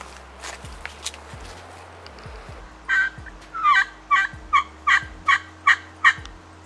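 A wild turkey in Oregon gobbles in a run of repeated loud bursts that come close together, while footsteps crunch through brush in between and underneath.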